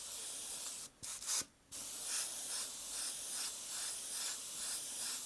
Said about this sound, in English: Now you can see how quick that empties that cup.